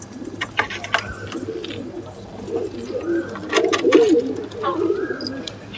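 Breeding pair of pigeons in a cage giving soft, repeated low coos, close by, with faint chirps and light background noise.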